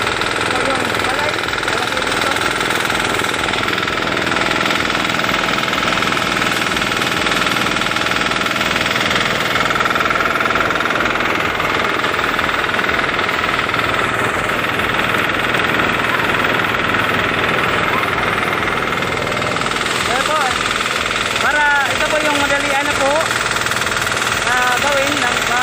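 A rice harvester's engine runs loudly and steadily in a rice field, with constant rumbling and rattling, drowning out other sounds.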